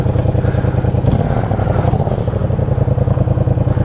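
Motorcycle riding on a gas station run, the engine droning steadily and loudly up close with rhythmic low pulsing and some rattling clatter throughout.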